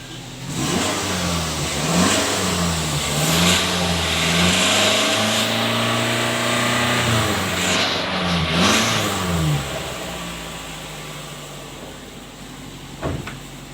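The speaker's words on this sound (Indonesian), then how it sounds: "Kurang lebih beginilah knalpot standar." A car engine fitted with a standard exhaust revs up and down repeatedly at close range, rising and falling for over ten seconds with a steady idle underneath and a brief knock near the end, with no talking.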